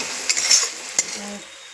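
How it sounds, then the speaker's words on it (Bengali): Spices fry in a pan at home with a low background sizzle. A spoon clinks and scrapes against the pan a few times in sharp, brief strokes. "এখানে মশলা ভাজাচ্ছি"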